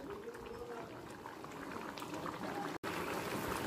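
Hariyali chicken masala bubbling in a pan over a high gas flame, a steady dense sizzle and boil with soft popping throughout, close and continuous.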